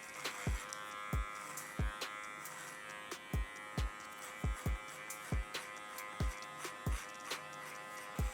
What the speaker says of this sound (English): Using the comb to help feed it into the clipper.